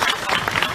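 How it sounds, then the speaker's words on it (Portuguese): Brief burst of audience applause at a PDT party affiliation dinner in Fortaleza, a dense crowd clatter of clapping lasting under a second. "Aplausos turbinados para Ciro Gomes."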